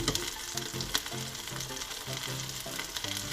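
A bacon cheeseburger patty and onions fry together in a pan, a dense crackling sizzle throughout with a few sharp spatula knocks and scrapes, close and fairly loud, no speech.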